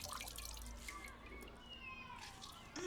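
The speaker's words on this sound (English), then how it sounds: "swirling their hands in the water." Hands swirl water in washtubs in an audio drama, giving a faint, continuous sloshing and dripping with no talking.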